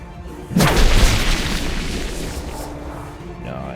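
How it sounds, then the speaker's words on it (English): Magic missile spell from a Minecraft Dungeons & Dragons game slamming home as a single heavy, booming impact, followed by a rumbling, crackling tail that slowly fades over several seconds, loud and alone. "it's coming with the magic missile"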